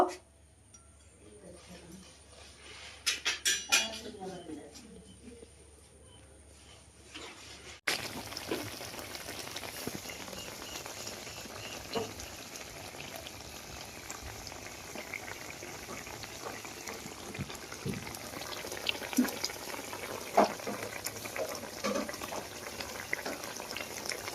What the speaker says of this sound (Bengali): এবার পাঁচ থেকে আমি ছ সাত মিনিট ফুটিয়ে নেব